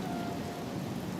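Rain and thunder in the Oblivion video game: dense, steady rainfall hiss with a low thunder rumble underneath, loud and unbroken, no voices.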